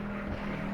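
Motor engine in a forest escape video game, a faint steady droning hum with a constant low pitch, heard alone.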